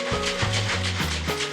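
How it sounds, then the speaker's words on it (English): A lidded blender holding chili sauce and chicken stock is shaken by hand, giving a quick series of rhythmic sloshing, rubbing bursts up close. "give her a little shake."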